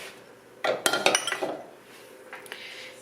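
Dry ingredients of flour, salt, baking powder and sugar tipped into a bowl for peach shortcake, giving a close cluster of clinks and soft rattles for about a second, then a faint knock later.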